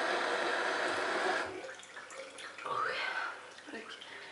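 A spray bottle mists water onto hair during a bang trim, a hissing spritz at the start that fades, then a few soft handling sounds while someone speaks French.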